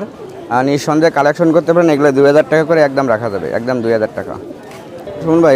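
Pigeons coo at a large pigeon market in Khalishpur, Khulna, their soft calls mostly buried under someone talking loudly and continuously close by.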